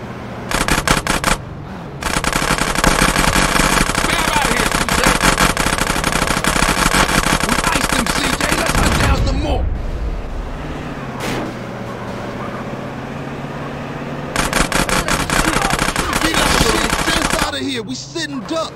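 Rapid bursts of automatic gunfire ring out during a drive-by in GTA San Andreas, loud and sustained in long volleys over a running car engine, pausing briefly before the shooting resumes.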